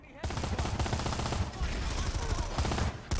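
Rapid submachine-gun fire from a competitive online game match rattles in dense, continuous bursts, loud and close, with a near-unbroken stream of shots running the full length.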